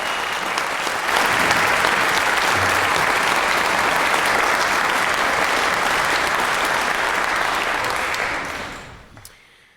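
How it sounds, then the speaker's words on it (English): A concert band audience claps loudly and steadily for a saxophone soloist at a fall concert, a dense sustained wave of applause that fades out near the end. "How about one more round of applause for our fantastic sax soloist?"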